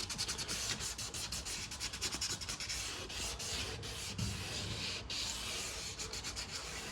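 Hand sanding of a car's peeling clear coat with 1000 grit wet and dry paper: a steady, close abrasive rubbing with quick back-and-forth strokes, continuous throughout and with no talking.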